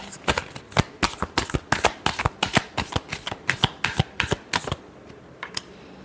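Tarot cards riffle in a quick run of about twenty crisp snapping flicks, close and clear for nearly five seconds before a short quiet tail.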